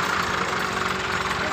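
A Massey Ferguson 260 tractor engine idles steadily and close up, a constant low rumbling drone with a faint knocking pulse and no change in pace.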